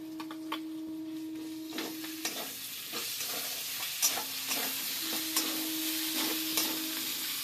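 Ginger garlic paste sizzles and crackles in hot oil while a spoon stirs and scrapes the pan at an irregular pace, heard close and steady as a shrimp and elephant-foot-yam curry is cooked.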